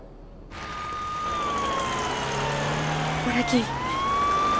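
A siren wails steadily from an emergency vehicle, rising and falling in pitch over traffic rumble, with brief voices talking and calling out during an urgent scene.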